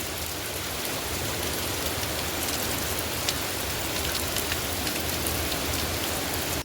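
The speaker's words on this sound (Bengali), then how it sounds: "এখন যেই খেতে বসছি হঠাৎ ঝমঝমিয়ে বৃষ্টি।" A sudden heavy downpour of rain roars steadily and loudly throughout, with a dense, unbroken hiss of drops hitting surfaces and no voices.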